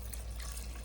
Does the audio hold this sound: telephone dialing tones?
no